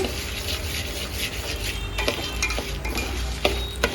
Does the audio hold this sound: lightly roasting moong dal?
yes